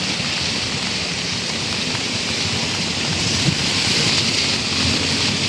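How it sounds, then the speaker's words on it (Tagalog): Strong wind gusting by the sea during a rainy storm, a steady close roar of broadband buffeting across the mic with no break throughout. "Ang lakas ng hangin"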